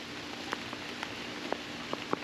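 Rain falls on an outdoor barbecue where jerk meat is cooking, a continuous wet hiss with several distinct nearby drops tapping surfaces.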